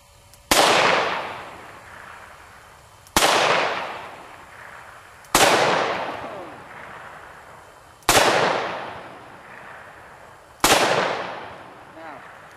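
Five loud shotgun blasts fired downfield at a shooting range, evenly spaced about two and a half seconds apart, each a sharp crack trailing into a long echoing decay.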